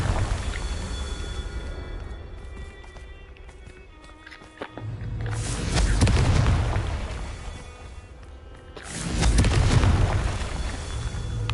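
Two heavy fiery blasts from the Confringo explosive spell in the Hogwarts Legacy video game, each swelling into a loud rumbling boom over steady background game noise.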